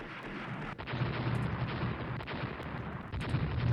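Naval guns firing in the warship strategy game Rule the Waves, a dense rumbling barrage of booming shots running continuously with a few sharper reports, no voices over it.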